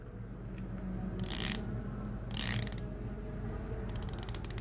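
A Longines Hydro Conquest watch bezel is turned slowly, giving faint, crisp ratcheting clicks in a few short bursts close up against a quiet background.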